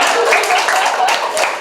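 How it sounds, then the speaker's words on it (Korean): Audience clapping at a seminar, a dense, steady wash of many hands filling the room at close range with no single claps standing out. "박수 치셔도 됩니다."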